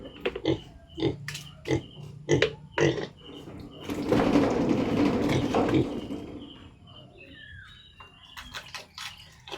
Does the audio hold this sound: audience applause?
no